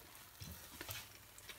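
Lamb brain fritters fry in hot oil, giving a faint, steady sizzle with soft crackles and a few light ticks, quiet and without talk.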